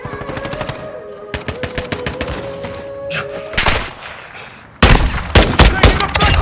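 Loud machine-gun bursts from a PS5 shooter, with rapid automatic strings of close shots, a brief lull, then a sudden heavy volley; combat voices cut in between the bursts.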